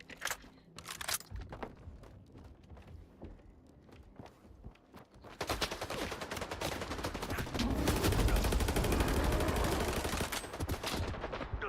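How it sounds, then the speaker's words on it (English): Gunfire from zombie enemies in the video game S.T.A.L.K.E.R. 2: after a stretch of scattered clicks and footsteps, a dense, loud burst of rapid shots starts midway and continues without letup to the end. "those zombies can shoot pretty accurately"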